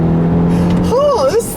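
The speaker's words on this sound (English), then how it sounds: "All right, so now I switched into the power mode. The gasoline engine is on." The 2018 Volvo XC60 T8 Inscription's turbocharged gasoline engine, running in power mode, drones at a steady pitch and then accelerates, loud and close inside the cabin, with a person exclaiming over it.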